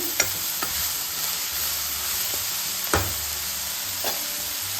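A spoon stirs horse gram palya in a pan, soft scraping strokes with a few sharp taps against the metal over a steady low sizzle, close and fairly quiet.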